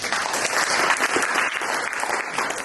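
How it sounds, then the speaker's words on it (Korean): Audience applause after a student presentation at a university idea contest, steady dense clapping throughout with a faint murmur underneath. "다시 한번 박수 부탁드립니다"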